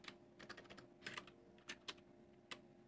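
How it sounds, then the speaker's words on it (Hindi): Rapid keystrokes on a computer keyboard, quiet and close, in uneven bursts of clicks with short pauses between, alone without talk over a low steady hum. "मैं कंप्यूटर पे ज़्यादा टाइपिंग नहीं करता हूँ"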